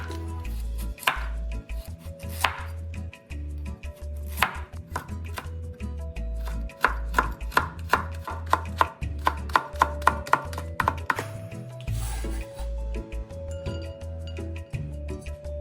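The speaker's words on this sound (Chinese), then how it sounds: "再切成丝。" A knife chops a carrot into shreds on a cutting board with quick, steady, close taps, the rhythm briefly pausing before carrying on; no one talks.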